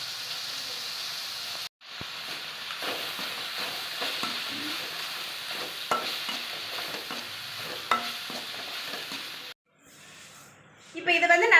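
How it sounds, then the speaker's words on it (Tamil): Minced mutton kola urundai mixture is being fried in a pan and stirred often. Soft sizzling and scraping run steadily throughout, with a brief pause and louder clattering of the spatula near the end. "இப்போ இதை வந்து நல்லா வறுத்து எடுத்தாச்சு."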